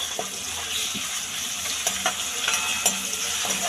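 Tomatoes and ginger-garlic paste fry with onions and asafoetida in a pan for a red pumpkin sabzi, giving a steady close sizzle with a few soft scrapes and clinks of a stirring spoon, and no talking.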